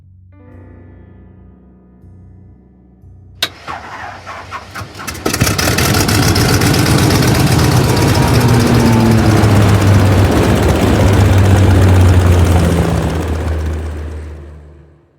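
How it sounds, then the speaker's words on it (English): An old propeller plane engine in the Jack Keane adventure video game coughs and sputters a few times, catches, then settles into a loud, steady droning roar that runs on and fades slightly at the end. "Come on, we'll take the plane!"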